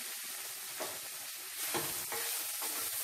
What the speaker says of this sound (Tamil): இப்போ நல்லா பொன்னிறமாயிருச்சு, இதோட துருவின கேரட்டை சேர்த்துடலாம்.